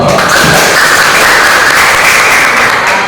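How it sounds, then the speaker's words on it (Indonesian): Steady, dense applause from a group of participants for the first student group after a presentation in a school science laboratory during a teachers' competition lesson, filling the room evenly for about three seconds. "Oke, beri tepuk tangan buat kelompok 1."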